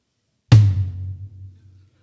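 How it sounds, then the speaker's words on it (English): A Tama 15-inch reserve snare drum with the snares turned off gives a single loud, close hit with a deep, ringing tom-like tone that decays over about a second and a half. "And I turn the snares off and it sounds like le this."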